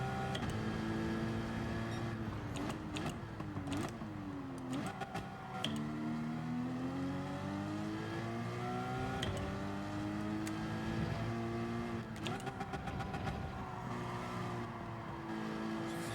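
A racing car engine in Gran Turismo 7 at Barcelona revving up and down through gears, rising and falling pitch sweeps, loud and continuous with brief shifts.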